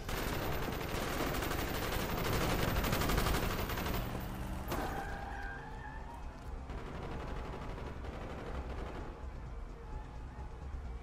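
Covering gunfire from squadmates in Call of Duty: Black Ops street fighting: heavy, sustained automatic fire with booming impacts, loudest early then continuing steadily, with voices calling out amid the shooting.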